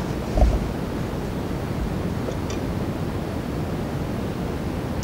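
Vinegar fizzing on calcium carbonate, releasing carbon dioxide bubbles as a steady, close, soft hiss with a brief knock near the start.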